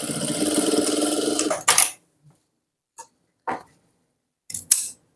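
A sewing machine stitching a Nihang Singh chola runs in a loud, steady whir for about two seconds, then stops, followed by a few scattered clicks and fabric handling sounds.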